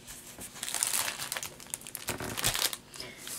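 Packaging of a needlepoint kit being unwrapped, close, soft crinkling and rustling of wrapping material in irregular bursts over a few seconds.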